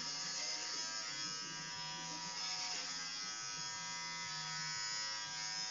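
A cheap electric shaver runs continuously while shaving a head, a steady, close buzzing hum with slight shifts in pitch as it moves through the hair.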